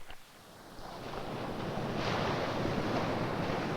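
Wind-driven waves breaking and washing against a lake shore, a steady rushing roar that builds and stays loud, mixed with gusty wind buffeting the microphone.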